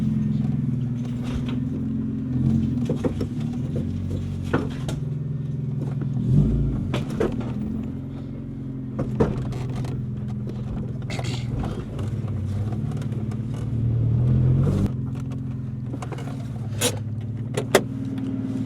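A car that has just had its engine reinstalled pulls away for road testing, a steady low engine hum running throughout with a few brief clunks and mechanical bursts, no talk over it.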